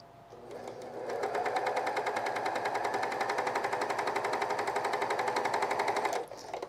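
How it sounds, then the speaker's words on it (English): A sewing machine stitches fleece for a men's quarter-zip pullover, running in one steady, fast, rhythmic burst for about five seconds before stopping, close and loud with no talking. "Let's just sew a little bit"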